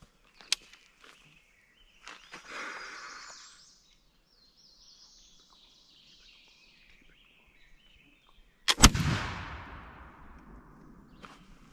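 A Northwest trade gun, a flintlock muzzleloader loaded with black powder and shot, fires a single loud outdoor test shot that is followed by a decaying echo, with birds chirping and faint footsteps beforehand.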